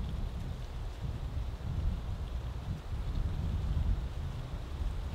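Cold wind blows through an ice storm with freezing rain at a camping site, a steady low rumbling roar with gusts buffeting the microphone, continuous and fairly loud, with no talk.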